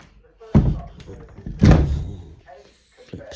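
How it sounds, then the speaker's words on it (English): A door bangs shut twice, each a sharp thud with a short rattle, followed by a fainter knock near the end, close by in a quiet room. "Door."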